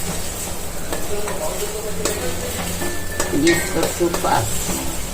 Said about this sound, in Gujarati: પછી આપણે કડી પત્તા તેજપત્તા અને તજ લવિંગ નાખી દઈએ ને લીલા મરચાંની કટકી બધું આપણે એમાં નાખી દઈશું પછી આપણે ચલાવશું